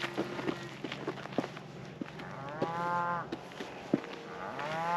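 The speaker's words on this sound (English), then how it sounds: "You can hear the cattle in the distance." Cattle on a ranch after a large wildfire moo in the distance, several drawn-out calls rising over faint footsteps and scattered crackles, with no one speaking.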